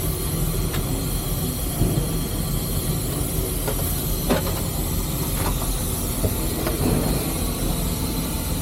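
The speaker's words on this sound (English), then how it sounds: "So that's the steam locomotive." Steam locomotive at the Illinois Railway Museum, heard from inside the cab: a steady hissing, rumbling roar with faint rhythmic knocks and clanks, continuous and close, with no talk.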